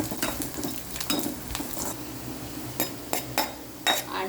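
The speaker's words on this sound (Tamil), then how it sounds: "இப்போ நம்ம ஒரு கை இந்த முந்திரி பருப்பு போட்டு அதையும் இது கூட சேர்த்து வறுத்துடலாம்." Grated coconut and cashew nuts roast together in a pan for sweet paniyaram, with a low sizzle under brisk spoon scrapes and a few sharp metallic taps and clinks near the end.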